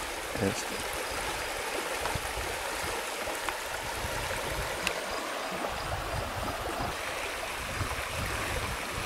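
River water flows past a backyard fishing spot on Dokis First Nation. It makes a steady, rushing wash of moving water that stays even and close for the whole stretch, with a few faint ticks and knocks.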